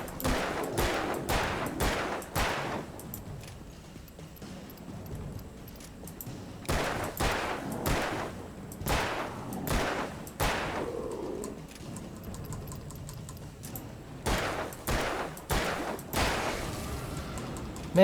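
Rapid gunfire in the Alan Wake video game, several dense bursts of repeated shots spread across the clip with short pauses between them, loud and close, no talking.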